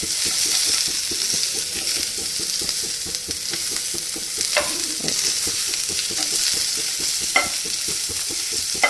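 Vegetables fry in a little oil in a pan while cooking uggani, giving a constant sizzle broken by regular spoon-stirring taps and scrapes, with a couple of sharper clinks.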